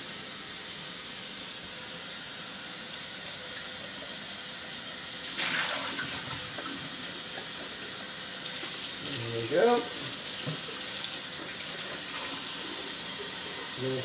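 Water splashes and runs as a Capresso iced-tea maker is rinsed out in a kitchen, a steady faucet-like flow with a couple of louder splashing swells.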